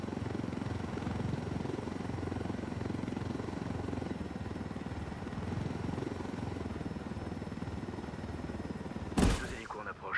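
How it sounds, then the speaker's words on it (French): Two helicopters approach in Ghost Recon Wildlands, a steady, loud rotor drone that rumbles continuously for several seconds before a sharp burst of noise and a short voice near the end. "Deux hélicos en approche."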